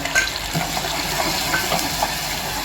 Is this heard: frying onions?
yes